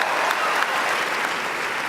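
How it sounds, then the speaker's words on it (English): A commencement audience claps in a dense, continuous roar of hands, loud and unbroken for the full stretch. "give yourself a round of applause"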